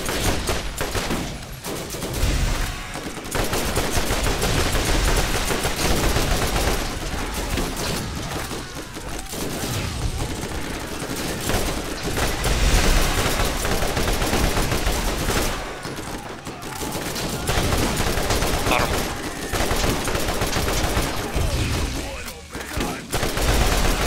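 Loud, dense gunfire rattles almost without pause in the co-op shooter game Borderlands, with rapid bursts overlapping into a sustained barrage and a few brief lulls.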